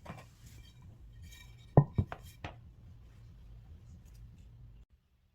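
Covering a Korean earthenware jar of fermenting rice wine with a cotton cloth and setting its lid on top: a few sharp ceramic clinks and knocks around the middle, then quiet, close and alone.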